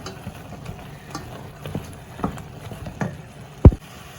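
Chili powder being stirred into a pan of chicken curry: soft, scattered scraping and patter of a spoon in the pan, faint throughout, with one sharper clack near the end.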